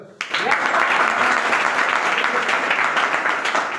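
A classroom audience breaks into clapping, many hands at once in a dense, steady patter that starts abruptly and holds for several seconds, fairly close and loud.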